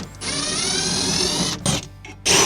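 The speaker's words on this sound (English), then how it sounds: "We'll just pull out these 4 Torx screws." A power drill fitted with a T30 Torx bit backs out Torx screws from a plastic rail on a Toyota Tacoma truck bed, whirring steadily for about a second and a half, then a short burst and another brief run, close and loud.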